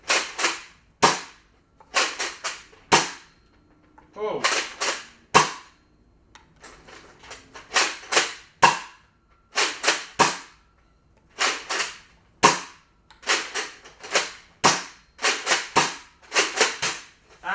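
A Nerf Tyrant blaster fires mega darts in a long series of sharp, loud pops, each with a quick fading tail, coming in uneven bursts and single shots; one brief exclamation is heard.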